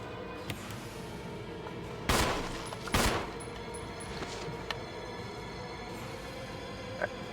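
Gunshots in a Resident Evil remake game ring out as two loud sharp cracks about a second apart, with fainter shots and clicks around them over a steady background hum.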